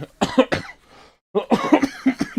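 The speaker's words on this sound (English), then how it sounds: "I can't shake this lingering cough" A series of harsh, close coughs in quick bursts, a brief pause, then more hacking coughs and throat-clearing sounds.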